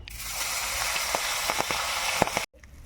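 A fish head frying in hot oil, cooked ahead of a mung dal: a steady, close hissing sizzle with scattered crackles and pops, cutting off abruptly near the end.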